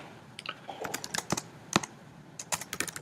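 Typing on a computer keyboard while writing C++ code: irregular bursts of crisp key clicks, close and fairly loud, with short pauses between runs, no talking.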